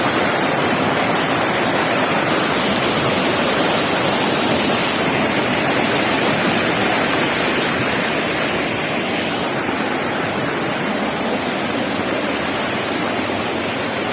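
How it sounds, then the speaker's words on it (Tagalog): A strong river swollen after typhoons rushes in a loud, unbroken roar of churning water close by, with no voices over it. "Lakas ng ragasan ng tubig, Di katulad dati mahina."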